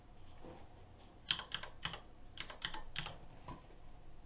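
Keys clacking on a computer keyboard as a meeting number is typed in to join a Cisco Webex virtual classroom: an irregular burst of close, crisp taps with small pauses, alone and without speech.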